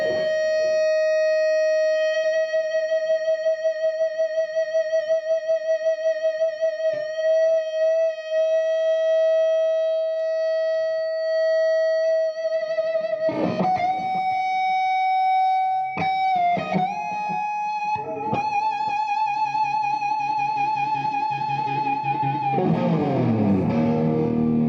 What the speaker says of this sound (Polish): podciągnąłem do 15 próg z dźwięku D do dźwięku E, przytrzymałem i ta gitara brzmiała w nieskończoność